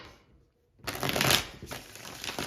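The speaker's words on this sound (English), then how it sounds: "I'm going to shuffle." Tarot cards are shuffled close by, a short silence giving way to a dense, crisp riffling flutter that swells and then settles into steady softer shuffling, with no one talking.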